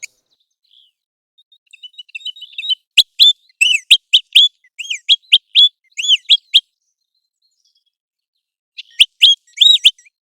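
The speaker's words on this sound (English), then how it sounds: "Their calls play a crucial role in communicating among these birds" American Golden Plover calling in a repeated series of clear, rising whistled notes, a few soft notes first, then a rapid run of loud calls followed by a pause and another short burst.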